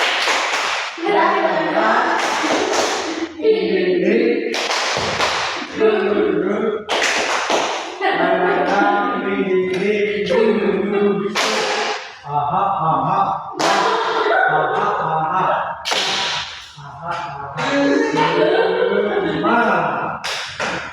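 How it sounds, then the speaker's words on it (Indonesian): A school class in Indonesia claps together in a rhythmic spirit-clapping routine, sharp clustered claps coming in bursts for about twenty seconds with voices mixed in. "Tepuk semangat."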